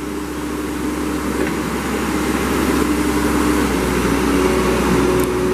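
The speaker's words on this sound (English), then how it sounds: "Show you the mast going in and out." A 2012 Moffett M70 truck-mounted forklift idles with a steady, low engine hum while its two-stage mast moves in and out, adding a faint hydraulic whine and a few light clicks.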